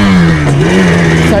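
A quad bike engine revs loudly and close, a strong throaty drone with shifting pitch, with a voice talking over it.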